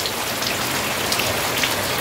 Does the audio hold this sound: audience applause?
no